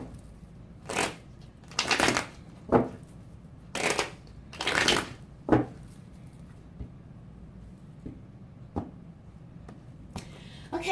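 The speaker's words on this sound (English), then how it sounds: "we're going to shuffle the cards" Tarot cards shuffled in bursts of crisp riffling and soft slapping, several separate shuffles spaced over the stretch, close and fairly loud against a quiet room.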